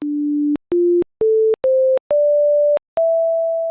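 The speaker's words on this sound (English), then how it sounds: "on a sine wave, we only have the fundamental frequency" Six pure, steady synthesizer sine wave tones play in sequence, each a step higher than the last, the final two held longer, clean and loud.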